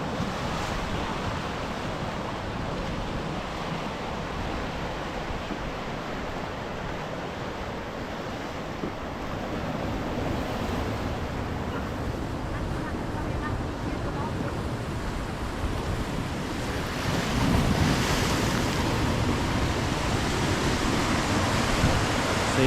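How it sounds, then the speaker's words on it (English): Sea waves crashing against black coastal rocks on the Irish coast near the Giant's Causeway, a steady loud roar of surf with wind noise, swelling stronger toward the end. "Listen to the sound of the water crashing against the rocks."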